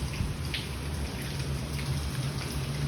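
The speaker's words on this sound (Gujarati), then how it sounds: "કેવો વરસાદ આવી ગયો" Steady rain patters continuously, a dense even hiss of drops falling on a surface, with no voices.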